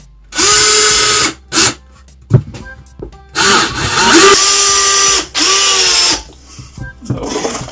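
A power drill drives a final screw into pressure-treated scrap wood, several loud whirring bursts with short pauses between them, close and without talk.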